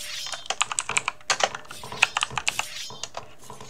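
Fingers type on a computer keyboard in a quick, uneven run of crisp key clicks with short pauses, close and clear with no talking.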